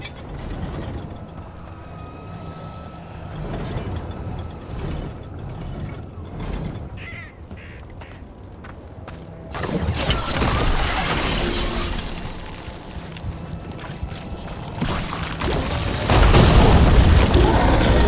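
A ballista firing in Dragon Age: The Veilguard, with ratcheting mechanical clanks and winding gears followed by heavy booming launches and impacts that grow louder toward the end, mixed with crow-like caws and ambient game noise.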